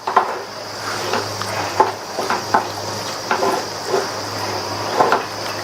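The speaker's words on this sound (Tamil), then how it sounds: "மாவு சேர்த்துட்டு இதுக்கு தேவையான அளவு உப்பு மிதமான தீயில வச்சு நல்லா இந்த மாதிரி கிண்டி கொடுத்துட்டே இருங்க" Batter mixed with salt is stirred in a pan on the stove over medium heat, a utensil scraping and tapping against the pan in a steady repeating rhythm, close and fairly loud, with a faint steady hum underneath and no talking.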